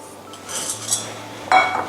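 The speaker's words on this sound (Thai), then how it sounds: "เอา ตัวลูกเดือยนะคะ ใส่ลงไปในหม้อนะคะ" Job's tears grains tipped into a cooking pot for grain porridge, giving a brief rattling clatter against metal with a sharper clink near the end, close and fairly loud.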